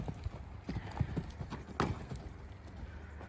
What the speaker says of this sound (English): Well, it looks a big horse, and pops into canter sweetly